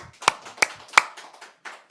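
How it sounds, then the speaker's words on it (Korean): Three sharp, evenly spaced claps ring out close by at a Korean church revival service, followed by a fainter fourth, with quiet murmuring between them. "박수 한번 칩시다."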